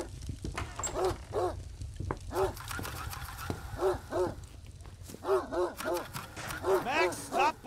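Dog in a horror video game barking repeatedly in rhythmic bursts, fairly close, with a person talking over parts of it.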